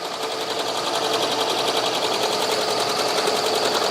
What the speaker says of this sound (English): I'm just going to let it embroider straight through